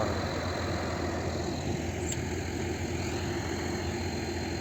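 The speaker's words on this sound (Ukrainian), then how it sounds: "Ось така робота цього культиватора." A 7070 tractor pulling a Veles KPG 8.2 cultivator drones steadily at a constant low rumble, with mechanical rattling and vibration underneath and no breaks.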